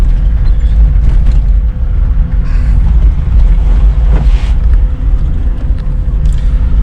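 A 4WD Toyota 76 Series drives through a wet section of desert track, a steady loud low engine and tyre rumble with continuous wind buffeting and splashing surges, no voices.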